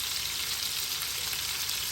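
Meatballs fry in a pan with a steady, dense sizzle that stays close and even throughout and has no voices over it.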